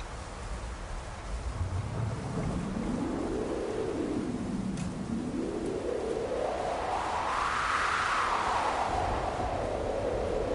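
Thunder rolls over the Arizona desert after months without rain, a long, low rumble that swells and fades across several seconds over a constant wash of rain-like noise, with no voices.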